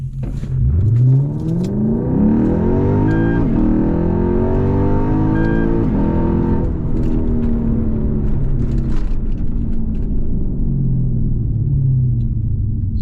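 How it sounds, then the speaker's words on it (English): A supercharged Lexus IS 350 in sport mode accelerates hard from 0 to 60 with manual shifts, its engine roaring loudly and rising in pitch through the gears from inside the cabin, with a steady heavy rumble throughout. "We'll put it into sport mode, and we will shift manually for the first 0 to 60."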